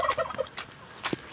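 Turkeys on a farm gobble in quick rattling bursts, several short calls close by with a brief pause between them.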